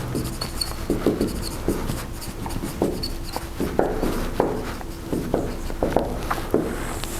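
Marker or chalk writing on a board during a university engineering lecture, with irregular taps and scratchy strokes at a moderate distance, no talking over it.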